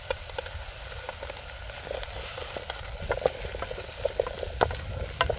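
Spring onion frying in oil in a Trangia pan outdoors, a steady close sizzle with scattered crackles and pops through the whole stretch, no talking.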